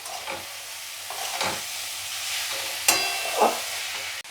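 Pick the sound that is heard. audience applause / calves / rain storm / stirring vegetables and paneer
stirring vegetables and paneer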